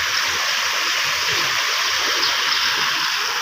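Floodwater from a swollen river rushes over a bridge, where large stones jam the pipes beneath; a loud, continuous roar of churning water fills the space up close without a pause, and nobody speaks.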